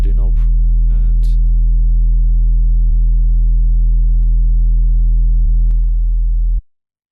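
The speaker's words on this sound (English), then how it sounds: "when we add Waveshaper and change the correlation, we can see and hear how harmonics are adding up" A steady sine tone in FL Studio, thickened by the Waveshaper plugin into a stack of added harmonics, holds loud and unbroken for over six seconds before stopping abruptly. Faint clicks and a few brief chirps sit over it.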